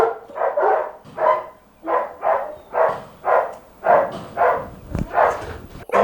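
A German Shepherd cross barks repeatedly at an obedience-training and boarding facility, giving about a dozen loud, close barks in a steady rhythm, with no other sounds over them.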